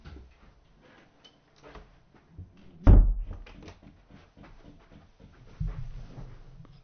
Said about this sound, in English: I think I'll shut the living room door.